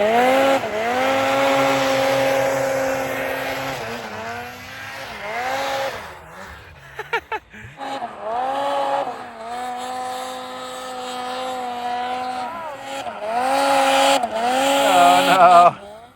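Ski-Doo Freeride 850 Turbo snowmobiles pull wheelies in an alpine zone, their loud engines revving and rising in pitch as they climb toward the listener, surging, easing off, then roaring again near the end.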